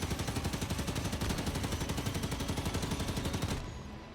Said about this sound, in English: both Holt and Wisner were opening up the chain guns mounted on the back of the vehicles to pick off their ghost pursuers